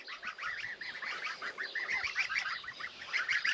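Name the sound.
goslings honking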